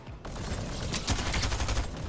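Rapid gunfire rattles in a dense burst during a video game, loud and continuous with overlapping shots and no voices.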